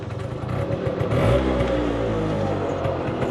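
A motorcycle engine revs close by, the pitch rising and holding in a steady mid-range drone with a light mechanical clatter underneath.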